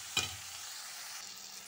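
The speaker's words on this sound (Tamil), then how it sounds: "இப்போ கொஞ்சம் இது வதங்கட்டும், நம்ம பார்ப்போம்" Channa masala base with salt frying in a pan: one sharp utensil knock, then a faint, steady low sizzle close by.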